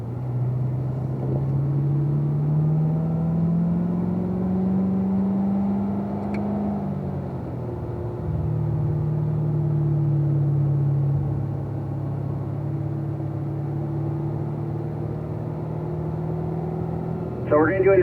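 A race car's engine hums steadily at low revs on a slow lap around a track, pitch easing up and down with throttle, while someone talks over it.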